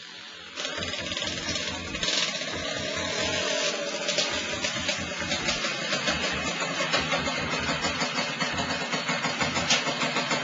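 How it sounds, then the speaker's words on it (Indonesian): A motorcycle engine starts up and settles into a steady running rumble with rhythmic pulses, close and loud, ridden through city streets in Semarang, with no talking. "Saya menunggang sepeda motor, roda 2, menyala."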